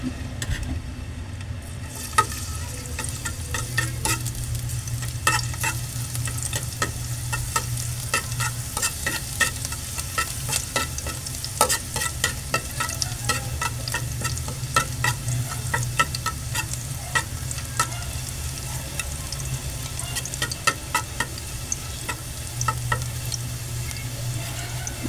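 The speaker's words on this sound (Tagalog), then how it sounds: "So, igisa po muna natin ito sa bawang." Marinated pork chops sautéing with garlic in a hot pan, a continuous loud sizzle with frequent clinks and scrapes of stirring, and no voices over it.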